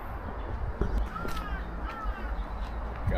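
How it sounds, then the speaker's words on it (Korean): A crow caws overhead outdoors, two or three harsh calls spread across a few seconds over steady background noise, with no talking. "까마귀가 위에 울었어"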